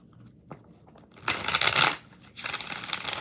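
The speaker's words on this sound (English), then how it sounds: "5 shuffles." A purple tarot deck is shuffled by hand, with a couple of soft taps followed by two loud, close riffling bursts separated by a brief pause.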